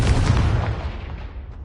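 A Confringo fire spell explosion from the Hogwarts Legacy video game lands close and loud, one heavy boom that rumbles and fades away over under two seconds.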